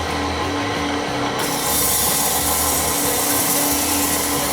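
A milling machine cuts a kart wheel in a 1980s Bandit-style design, producing a loud, continuous, close grinding and whirring noise that grows slightly louder partway through.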